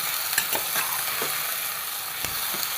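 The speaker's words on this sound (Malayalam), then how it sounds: "ഇതാ ഈ വെജിറ്റബിളൊക്കെ ഇട്ട് കൊടുക്കാം ഇതൊന്ന് പതുക്കെ നമുക്ക് ഇളക്കി കൊടുക്കാം" Vegetables frying in hot oil for a vegetable fish curry hiss continuously and close up, with a few soft clicks and scrapes as they are stirred slowly.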